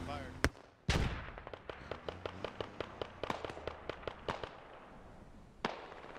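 Incoming gunfire in the military shooter Squad: a steady run of sharp, evenly spaced cracks after a couple of heavier bangs, with one last isolated shot at the end, fairly distant and echoing.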